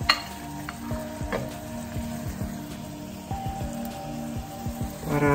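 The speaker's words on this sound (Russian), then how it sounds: "Сейчас уже мы можем закинуть наши колбаски" Sausages sizzling in a pot of beans for Asturian fabada, a steady crackling fry with scattered pops and stirring clinks, continuous and close with no talk.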